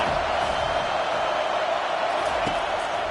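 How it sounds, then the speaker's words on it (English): Stadium crowd at a college football game between #15 Iowa and #17 Miami, roaring steadily for the defense on third down; a dense, sustained wall of noise that stays loud throughout, with a brief sharp accent near the end. "Decibels rising as the crowd gets behind this defense on 3rd down."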